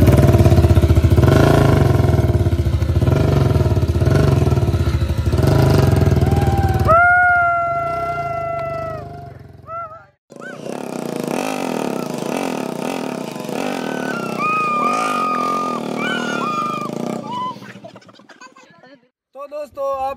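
Loud motorcycle engines of two Hero Splendors roar and strain together in a tug of war against a Royal Enfield Bullet, then cut out, followed by another engine revving hard with a high whining tone.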